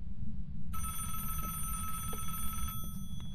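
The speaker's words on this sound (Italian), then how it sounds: "come fa a squillare il telefono se la cornetta è alzata?" A telephone bell rings steadily and fairly loud after a short quiet start in a Phasmophobia role-play scene, with a continuous trilling ring over a low rumbling background.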